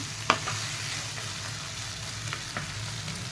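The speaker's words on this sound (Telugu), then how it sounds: "ఇలా ఫుల్ అంతా మిక్స్ చేసుకోవాలి" Brinjal gojju mixture is stirred in a frying pan, a close, steady sizzle with a sharp utensil knock near the start and a few lighter scrapes as it is mixed.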